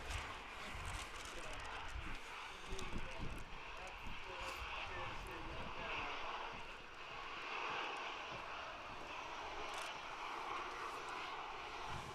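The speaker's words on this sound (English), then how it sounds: "EasyJet A320 just arriving." EasyJet Airbus A320 airliner arriving at Manchester Airport in wind and rain, a steady distant engine roar holding throughout, with people talking over it.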